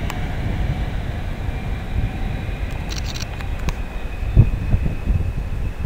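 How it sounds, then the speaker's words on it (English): A delayed northbound passenger train to Crewe rolls through Nuneaton station, giving a steady, loud rumble with rail clatter and a few sharper wheel knocks near the end, close by and without speech. "Here comes the slightly delayed 1617 service to Crewe."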